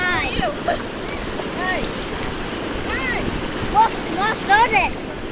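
Pacific Ocean waves wash onto the shore with a steady, broad rush of surf and wind buffeting the microphone, while a child's high chatter and squeals rise over the water noise.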